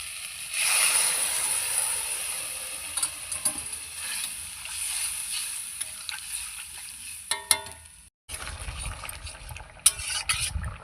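Water poured into a pan of elephant foot yam and potato curry cooked with cumin, ginger, green chili, turmeric and tomato sets off a loud hissing sizzle, followed by quieter bubbling and stirring with brief scraping clatters.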